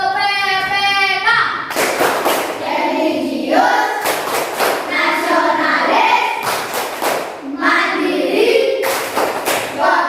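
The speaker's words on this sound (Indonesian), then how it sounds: "Nah, sekarang kita tepuk PPK dan salam PPK." A classroom of schoolchildren performs the rhythmic PPK clap chant, sharp unison claps in quick patterned bursts alternating with voices chanting together, loud and close.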